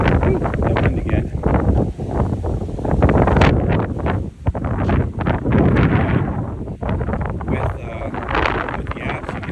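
Heavy wind buffets an outdoor microphone on a windy day, a loud, continuous roar with gusty surges and brief dips that swamp the whole clip.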